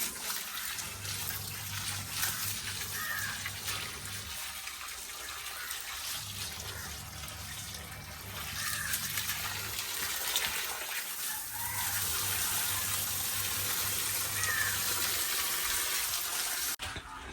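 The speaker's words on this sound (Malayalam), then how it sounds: "വെള്ളം അടിച്ചിട്ട് ഏകദേശം ചളിയൊക്കെ പോയിട്ടുണ്ട് കേട്ടോ" Water is sprayed to wash mud off the ground at a small home aviary build, a continuous hiss of spray over a low, steady mechanical hum that pauses briefly and resumes.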